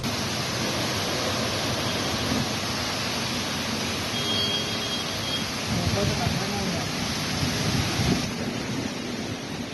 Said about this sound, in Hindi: इसके बाद मौसम में अचानक बदलाव हुआ और आंधी तूफान के साथ बारिश हुई